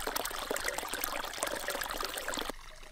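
Water pours and overflows into a freshly dug swimming pool, a steady loud rushing splash close by that cuts off abruptly near the end, leaving a quieter trickle.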